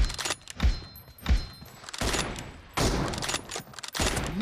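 M24 sniper rifle shots in the video game BGMI, two sharp booming reports about half a second apart, followed by busy game noise and rumbling ambience.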